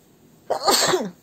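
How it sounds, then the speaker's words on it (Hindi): A single sharp human sneeze, close and loud, with a quick intake then a burst lasting about half a second, in a quiet room. "मुझे छींक आ गई थी"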